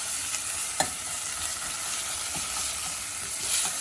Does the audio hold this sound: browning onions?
yes